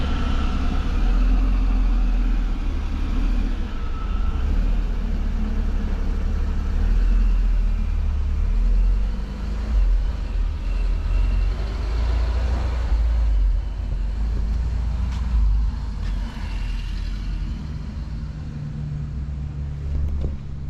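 Turbocharged Honda car with a Mugen engine running steadily, a loud continuous low rumble close by with slight fluctuations, no talking.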